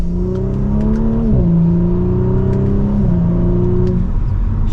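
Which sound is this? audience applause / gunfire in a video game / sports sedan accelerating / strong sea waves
sports sedan accelerating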